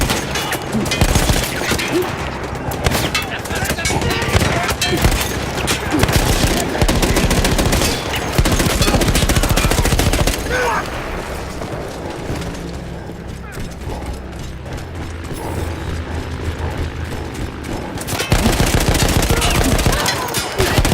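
Mounted machine gun fires in long sustained bursts during a Battlefield 1 battle against Austro-Hungarian troops, loud and dense, amid explosions and chaotic combat noise.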